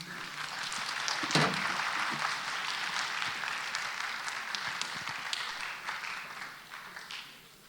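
Audience applause welcoming a guest lecturer onto the stage at a sexual violence prevention class at a Methodist theological seminary, a dense, steady patter of many hands that swells early and holds before fading out.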